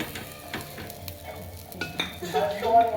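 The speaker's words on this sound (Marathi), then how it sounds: "थोडीशी पाव गरम करताना ह्याच्यामध्ये आपण भाजी पण घालून घ्यायची." Pav bread warms in a pan with pav bhaji while a spatula scrapes and stirs, giving repeated close clanks and scuffs over a continuous frying sizzle that swells louder toward the end.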